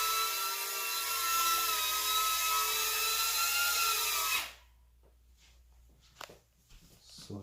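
Small Propel Navigator Twister toy drone buzzing steadily with whining rotor tones for about four seconds, then cutting out abruptly on landing, leaving quiet room sound with a few faint clicks.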